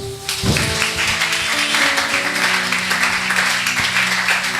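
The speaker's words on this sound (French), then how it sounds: "Nos acclamations." A church congregation at a French-language service breaks into applause, a dense, steady wash of clapping that swells quickly and holds, with faint voices mixed in.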